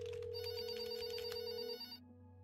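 A telephone rings in the game There Is No Game, a bright electronic trill repeating quickly for about two seconds before cutting off, leaving a low synth tone and background music behind it.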